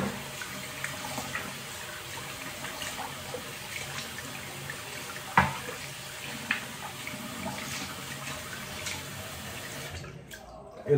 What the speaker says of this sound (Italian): sciacquo con acqua fredda